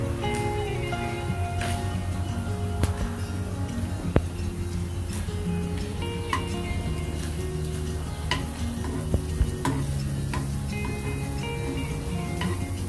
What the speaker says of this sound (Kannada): ಕ್ಯಾಪ್ಸಿಕಮ್ ಈರುಳ್ಳಿ ಚೆನ್ನಾಗಿ ಫ್ರೈ ಆಗೋವರೆಗೂ ಮಿಕ್ಸ್ ಮಾಡಬೇಕು